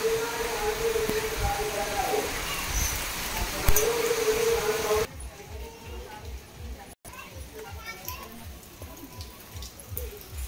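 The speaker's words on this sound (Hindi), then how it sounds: "भगवान ने देखिए बारिश झमाझम कर दी" Heavy rain pouring at a temple site, a steady broadband hiss with people talking over it, turning quieter and more distant partway through.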